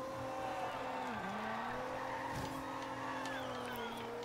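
Cars in the Forza Horizon 2 racing game: a steady, droning engine note rises and falls with shifting pitch, joined by tire squeal midway, with sound staying constant throughout and no clear speech.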